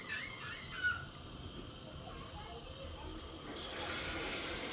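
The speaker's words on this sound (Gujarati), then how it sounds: "હવે પાણી એડ કરવું પડશે।" Water pours into a cooking pot of dal for dal dhokli, a steady low splashing that swells into a louder, brighter rush near the end.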